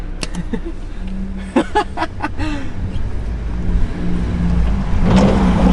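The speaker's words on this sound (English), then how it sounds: "It feels unreal, bro, that we're actually driving this car." A wrecked, rebuilt BMW F30 drives and accelerates, its engine rising in a steady mid-pitched hum from inside the cabin while excited voices talk over it.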